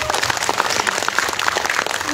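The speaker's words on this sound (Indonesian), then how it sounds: "Tuh, tepuk tangan dong." Audience members clap at a film press conference, brisk overlapping applause from a small crowd, close and moderately loud throughout.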